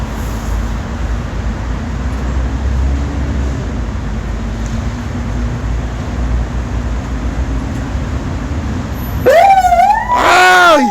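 A police patrol car's siren wails and sweeps up and down near the end, loud and close, after a long stretch of steady traffic rumble with no talking.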